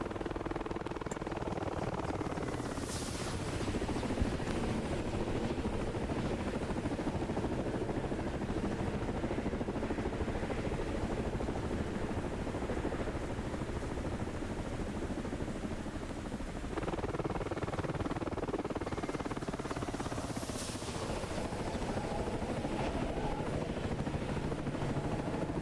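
A Boeing E-3 Sentry aircraft, seen at an air show, passes overhead as a steady, loud broadband engine roar lasting throughout, with brief swelling whooshes as it sweeps by.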